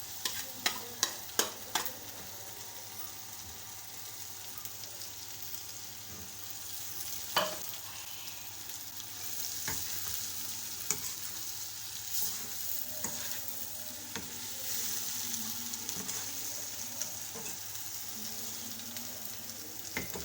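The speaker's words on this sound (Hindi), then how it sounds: "अंडा बिल्कुल पक चुका है, अब हम इसमें भिंडी शामिल करेंगे।" Egg and okra fry and sizzle steadily in a pan, with sharp scraping stirs of a utensil breaking through now and then, close and continuous with no talking.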